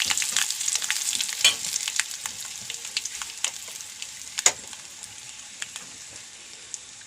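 Dried red chillies and curry leaves frying in hot oil, a close crackling sizzle with scattered sharp pops and spits, busier at first and easing off, with no talking.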